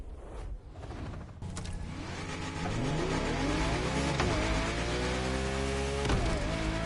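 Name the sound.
car engine revving from video game The Crew Motorfest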